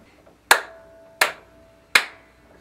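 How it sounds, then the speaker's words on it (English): Three sharp hand claps spaced evenly about two-thirds of a second apart, close and loud, each with a short ringing decay, in a home music room before a small acoustic band begins. "Claps and an intro."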